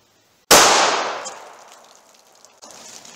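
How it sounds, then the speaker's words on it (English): .38 Special revolver fired into layers of winter fleece clothing, a single sharp, loud close-range shot with a ringing decay trailing off over about two seconds, followed by faint rustling. "we'll see how many layers of fleece this bullet goes through"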